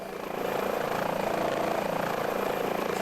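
A helicopter in Microsoft Flight Simulator hovers over a French city, its rotor and engine giving a loud, steady drone that holds throughout without a break.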